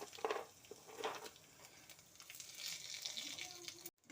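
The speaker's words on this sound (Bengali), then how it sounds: "ওই তেলের মধ্যেই আমি এখন ফোড়ন করে নেব। সাদা জিরে, শুকনো লঙ্কা আর দিয়ে দিচ্ছি তেজপাতা" Cumin seeds, dried red chillies and bay leaves drop into hot leftover oil from frying moong lentil dumplings, giving a close, crackling sizzle with a few sharp spits and light utensil clinks, no voices.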